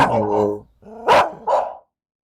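A dog in the horror video game Urayama gives a few loud, close barks, two or three sharp bursts with a brief growl, then stops into silence.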